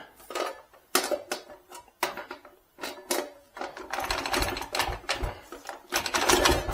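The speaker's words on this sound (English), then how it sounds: "I'll demonstrate loading this now. The drum magazine loads from the side as opposed to the stick magazine" Metallic clicks, scrapes and clacks come from a drum magazine being loaded from the side into a Thompson submachine gun with the bolt held back, in uneven close bursts with short pauses between.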